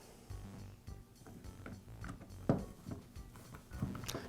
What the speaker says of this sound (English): Now I can reinstall the housing